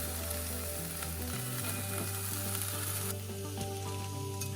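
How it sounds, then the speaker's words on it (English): Tomatoes go into a pan of lightly browned onions for a tofu scramble, bringing a loud, steady sizzle and crackle that stays close and continuous, with no talking. "Now that the onions have slightly browned, I am going to add my tomatoes."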